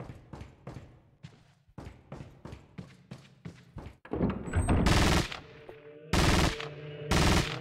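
Rapid machine gun fire from the Resident Evil 4 video game, with bursts of tight repeated shots that build into louder, denser volleys near the end.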